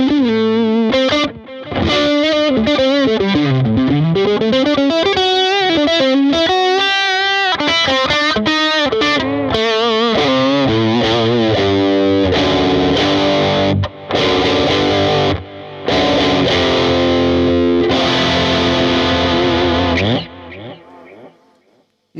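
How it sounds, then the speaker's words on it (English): Electric guitar through a Strymon Riverside overdrive pedal, loud and gritty, with bending sustained notes and chords ringing one after another before fading out at the end. "And then you can add some overdrive from the Strymon Riverside."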